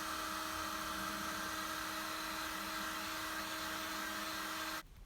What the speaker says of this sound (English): we're just going to heat gun this last layer